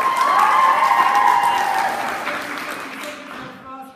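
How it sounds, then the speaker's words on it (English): An audience applauds and cheers for a choir director at a school chamber choir spring soirée, loud at first, then tapering off as voices begin to emerge. "Nice round of applause, Miss Johnson again."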